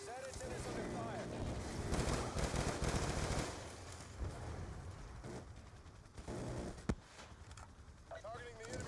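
Gunfire in the shooter game Call of Duty: Black Ops 2, dense automatic bursts and explosions rattling through a busy battle mix, with in-game radio voices talking over the shooting.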